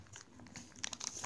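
Paper creased by hand while folding a five-pointed origami ninja star, giving soft, close crinkling rustles with a few sharper crackles near the end, faint and without talk.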